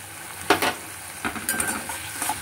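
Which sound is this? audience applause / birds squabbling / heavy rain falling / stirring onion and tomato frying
stirring onion and tomato frying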